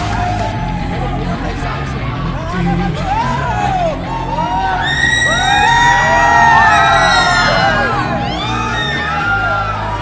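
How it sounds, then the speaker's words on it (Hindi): A large crowd cheers, whoops and shouts continuously in welcome of Chhattisgarh film star Mann Qureshi, loud and close, with overlapping voices and engine noise from vehicles mixed in. "भाई इतना ज्यादा भीड़ है, देख सकते हो।"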